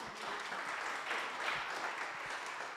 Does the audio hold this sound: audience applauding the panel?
yes